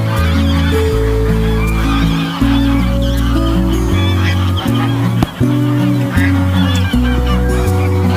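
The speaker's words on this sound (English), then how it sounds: "American buff geese," American Buff geese on a farm honk in a loud, crowded chorus, their nasal calls overlapping continuously and close by, with brief dips between bursts.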